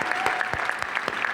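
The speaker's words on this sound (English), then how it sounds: "I would say give them a bigger round of applause than that." Audience clapping at a summer kickoff community event, a steady burst of applause from a crowd, fairly close and dense with scattered sharper claps.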